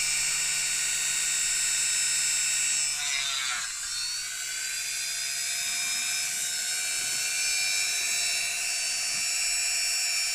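A Dremel rotary tool bites into a power cord, its steady high whine dipping sharply for a moment as it catches, then settling back to a continuous, close drone.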